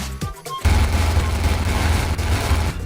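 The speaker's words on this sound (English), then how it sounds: "Let's hear the sound of the new gatling gold." Gatling gold gun from the Blockman Go video game firing a sustained, rapid burst of automatic shots, loud and continuous after a brief quiet start, with no talking over it.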